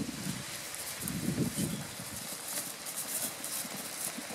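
A calm chestnut horse with four white socks clip-clops on the ground at a walk, the hoofbeats soft and fairly distant over a steady wind-like hiss.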